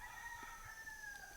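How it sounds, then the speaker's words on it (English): Roosters crow faintly in the distance near Makaleha Mountain on Kauai, a thin drawn-out call rising over quiet outdoor background. "So I think these roosters know where they are."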